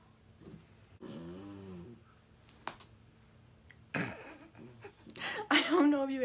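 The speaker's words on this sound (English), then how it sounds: "Turbo is just snoring under my tripod right now" A dog lies under a tripod snoring in soft, rhythmic rasps, close by and mixed with someone talking and chuckling indoors.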